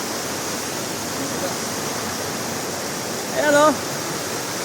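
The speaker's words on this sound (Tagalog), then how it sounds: "Itong ilog na to mga kabigote, dito na nanggagaling yung mismong tubig." River water wells up from an underground spring at a resort in Tanay, Rizal, and flows as a steady close rush of broadband water noise. Someone speaks briefly over it near the end.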